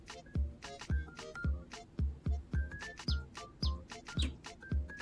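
A canary chirps in a video game demo, a steady stream of short, bright tweets with bouncy thumping beats beneath, close and clear.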